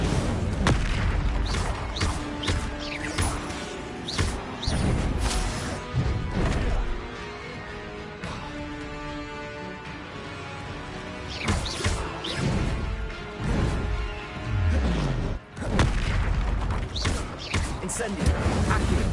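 Fire spells cast over and over in Hogwarts Legacy combat, a dense run of whooshing bursts, crashes and thuds through nearly twenty seconds, with a voice speaking at times over the fighting.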